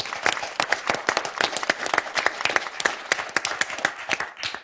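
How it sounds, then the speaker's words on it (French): A studio audience on a French television game show claps in dense, lively applause, close and continuous for several seconds before thinning out at the end. "Bravo, on vous applaudit."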